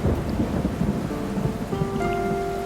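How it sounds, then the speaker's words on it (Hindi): Steady rain hisses and patters close by, with low rumbling underneath; a faint tonal sound drifts in over it toward the end. "बारिश शुरू हो गई।"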